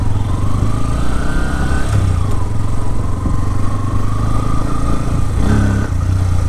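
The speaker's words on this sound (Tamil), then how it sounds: "இப்போ வாங்க வண்டியை ஸ்டார்ட் பண்ணலாம், ஓட்டுவோமா?" A Bajaj Pulsar N160 motorcycle engine runs steadily and loudly up close, its low throbbing drone rising and falling as the bike pulls away and rides on, with small revving swells along the way.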